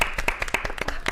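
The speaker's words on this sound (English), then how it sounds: "I was clapping for myself." A single person claps at a school committee meeting just after being elected chair, about nine or ten sharp, fairly close hand claps in an uneven rhythm with no talk over them.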